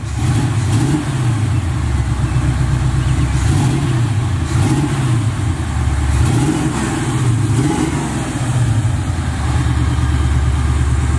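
A boxy Chevy engine runs loud and close throughout, its low rumble rising and falling in repeated revs every couple of seconds, with no talking over it.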